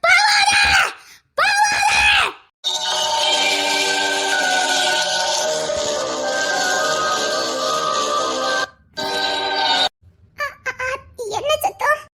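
A woman's loud, sustained scream rings through an old building, starting with a couple of short shrieks and then holding a long, harsh wail for several seconds. Brief voices break in near the end.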